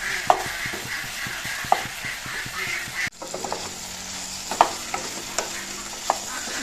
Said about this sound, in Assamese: প্ৰায় 5 মিনিট সময় ভাজিছোঁ